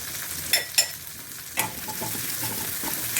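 Onions sautéing in a pan for a channa and dried prawn masala, a faint steady sizzle with a few sharp clinks of a spoon stirring near the start, no voices.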